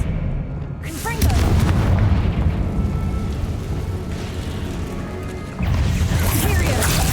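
Spell blasts such as Bombarda and Confringo in Hogwarts Legacy land as heavy booming explosions with rumbling aftermath, two strong surges a few seconds apart over a dense, continuous game soundscape.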